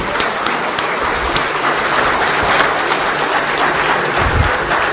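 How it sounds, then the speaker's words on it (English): Loud, thundering applause from a large audience at the close of a CII business summit in Delhi, a dense continuous roar of clapping with occasional nearby thumps and low crowd rumble, no speech over it. "can we have a round of applause, thundering applause, please, from everybody?"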